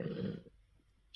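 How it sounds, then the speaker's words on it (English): A stomach rumble rises loud and low for about half a second, then fades into near silence with a faint click at the end, no talk over it. "Sorry about that, excuse me, that's my stomach, not a burp."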